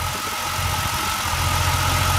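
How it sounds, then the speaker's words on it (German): A 1997 Porsche Carrera 2 Cabriolet's air-cooled 282 hp Varioram flat-six boxer engine idles close by, a steady, even mechanical hum and rumble with no voices over it. "Hier der Vario-Ram-Motor."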